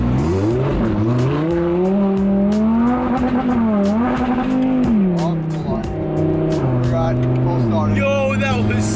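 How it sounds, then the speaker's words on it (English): A car with a full straight-pipe exhaust, headers and downpipes, cold-started, pulls onto a main road and accelerates hard. The engine note is loud and close, climbing and falling through several gear pulls, with voices talking over it. "I've never ridden a straight pipe, like a full straight pipe with headers and downpipes"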